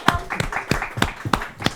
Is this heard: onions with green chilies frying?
no